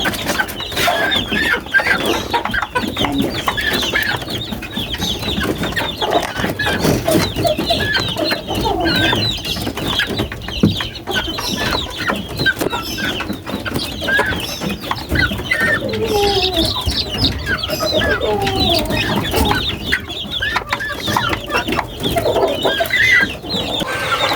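A flock of sick young chicks, sisiw, clucks and peeps nonstop at close range, a dense overlapping chatter of small bird calls with soft scratching and shuffling throughout.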